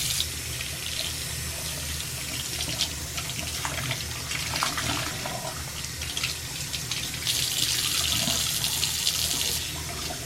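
Tap water runs steadily for rinsing during a test of dollar-store cleaning products, a continuous splashing flow that brightens into a harder hiss near the end, with no talking.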